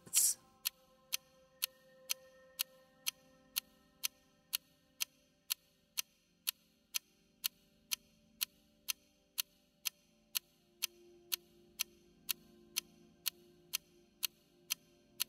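An analogue clock ticks steadily at about two ticks per second, crisp and close, with no other sound or voices and only faint background hum beneath.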